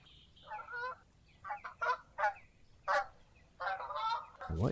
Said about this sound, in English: What is that? Are those geese?